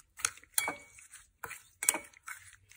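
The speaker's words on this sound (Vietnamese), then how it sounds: "Bây giờ mình sẽ trộn đều lên." Utensils clinking against a bowl while fish sauce marinade is stirred, several sharp metallic taps and scrapes in an uneven rhythm, close and fairly quiet, with no talking.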